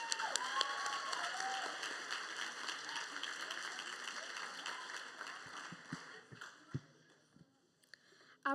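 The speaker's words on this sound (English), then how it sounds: "Please give all of these students another round of applause." Graduation audience claps for the students, a moderate, fairly distant wash of applause that thins out and fades after several seconds, leaving a few isolated taps and shuffles before a sudden noise at the end.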